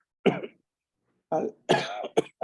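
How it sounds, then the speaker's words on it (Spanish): A harsh cough, then after a short pause a second burst of coughing that breaks into a couple of rough throaty hacks, close and loud. "me ha quedado esta tos, como dice mi abuela, tos de perro"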